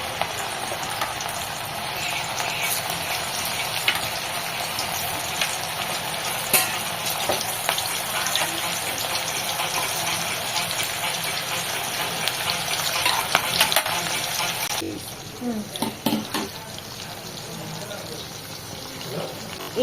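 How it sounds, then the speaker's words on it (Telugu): Mutton and chicken keema meat balls fry on a low flame in a pan, a steady close hiss of bubbling oil that carries through the whole stretch, with a few scraping stir sounds near the end and a voice talking over it. "కొంచెం సిమ్లో పెట్టుకొని ఫ్రై చేసుకోవాలి, లేకపోతే పైన కలర్ వస్తుంది,"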